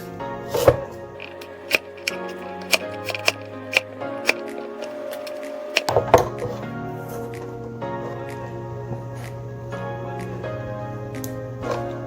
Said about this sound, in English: And then I'm going to make some carrot strips. I'm going to cut it in half.